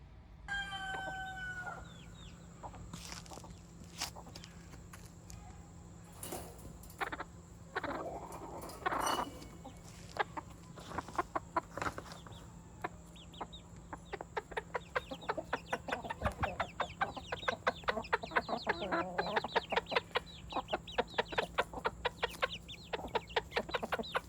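Polish and Silkie chickens cluck and chatter steadily, with a rooster crowing early on, the clucking growing busier and louder toward the end.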